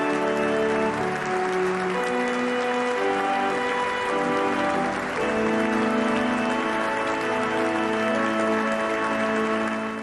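A large crowd applauds continuously inside a basilica, a dense wash of clapping that stays steady throughout, with organ-like tones sustained in the background.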